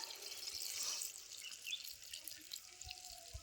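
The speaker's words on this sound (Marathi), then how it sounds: "आता पाणी ओतून घेते त्याच्यामध्ये, म्हणजे भाजी शिजायला पाहिजे" Faint water pours and splashes from a pot into jackfruit vegetables cooking on a wood-fired stove for a few seconds, a soft gurgling stream with a few drips.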